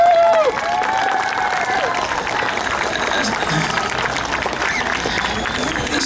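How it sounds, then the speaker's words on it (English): Crowd at an outdoor tree lighting with Santa applauding council members, a broad continuous wash of clapping with cheers and talk mixed in, starting after a brief squeal or shout. "These guys deserve a big round of applause"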